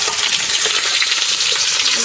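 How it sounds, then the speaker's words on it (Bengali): Chopped onions dropped into a pan of frying chicken for a chicken curry, giving a loud, dense sizzle that holds steady for a couple of seconds, close up and without talk. "এই যে এখন আমি পেঁয়াজ কুচি দিয়ে দিব একটু মাংস রান্না করার জন্য।"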